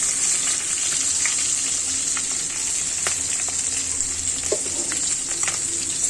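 Cumin seeds sizzle steadily in hot oil while cooking a rui fish dish with bottle gourd peel, a dense continuous crackle close by with faint scattered pops and no talking.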